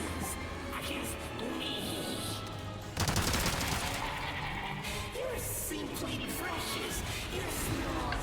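Continuous gunfire from Resident Evil 4 plays as a dense, rapid crackle of shots under game noise and music, with a sharper burst partway through, while a player talks excitedly over it.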